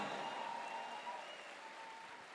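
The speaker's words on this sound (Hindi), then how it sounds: "अभी तक की सबसे जोरदार तालियां होना चाहिए दोस्त, जोरदार तालियां होना चाहिए" An audience at a motivational event applauds the company MD and CEO, a dense continuous wash of many clapping hands at steady volume with a faint tonal hum behind it.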